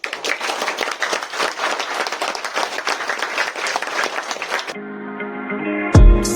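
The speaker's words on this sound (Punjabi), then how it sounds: "ਇੱਕ ਵਾਰ ਜ਼ੋਰਦਾਰ ਤਾੜੀਆਂ ਮਾਰ ਕੇ" An audience claps loudly and densely after a Punjabi stage play, the applause sustained for several seconds before giving way abruptly to music.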